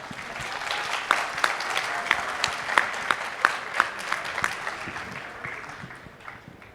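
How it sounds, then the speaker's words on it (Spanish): Audience applause at a petrochemical industry forum panel, a steady wash of clapping from a seated crowd with a few sharper individual claps standing out, holding level for several seconds before tapering slightly at the end. "Por favor, un aplauso"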